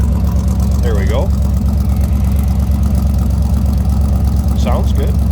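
A 1957 Ford Ranchero hot rod pickup idles with a steady, loud, low rumbling thrum, close and unbroken, while someone speaks briefly over it twice.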